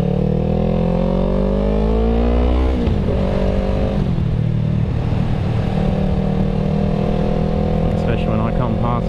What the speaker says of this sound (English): Especially when I come past with this exhaust.